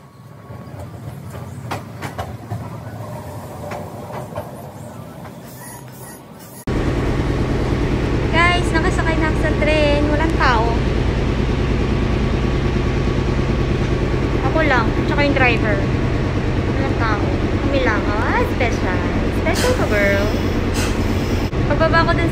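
Onboard a JR local train in Japan: a quieter stretch gives way to a loud, steady rumble of the moving carriage, with whining tones and voices heard at times.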